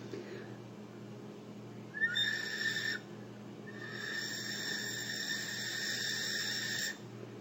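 Breathy whistling tone from blowing across the top of a half-length drinking straw, two airy sustained notes, the first about a second long and the second about three seconds, faint over quiet room hum.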